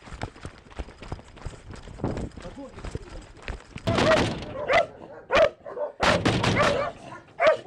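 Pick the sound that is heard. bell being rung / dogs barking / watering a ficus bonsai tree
dogs barking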